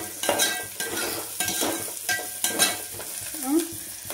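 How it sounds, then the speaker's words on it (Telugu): A spatula stirs khichdi in a pan with sizzling oil, giving repeated scraping strokes at an uneven rhythm, close and fairly quiet, with no voices. "ఇట్లా ఒకసారి తిప్పేసుకోండి"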